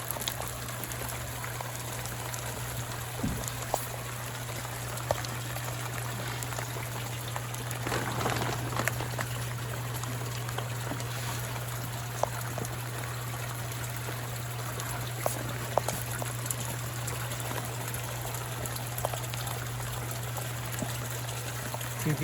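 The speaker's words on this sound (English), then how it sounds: "the outlet crashing into the water is pretty noisy" Water from a koi pond outlet pours and splashes steadily into the pond in winter, a continuous rushing trickle with a low steady hum beneath it and no voices.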